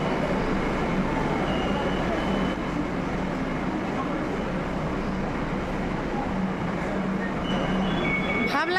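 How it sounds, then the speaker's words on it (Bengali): Kolkata metro train running underground, heard as a steady loud rumble and roar that fills the whole stretch, with a brief higher squeal near the end. "দেখো মেট্রো যাচ্ছে,"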